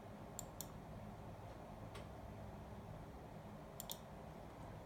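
Sparse clicks on a computer keyboard come in short isolated pairs and singles over a steady low room hum, soft and close.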